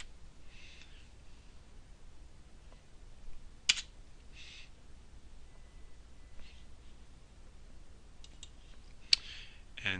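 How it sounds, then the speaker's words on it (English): Keys on a computer keyboard tapped in short scattered bursts while a text label is entered in mapping software, faint clicks close to the microphone over quiet room hiss, with no one talking. "I'm going to just type in Fowler Forest"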